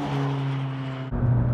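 A 2016 McLaren 570S engine droning at steady revs, a close tonal hum that shifts pitch abruptly near the end as the car accelerates, with no speech.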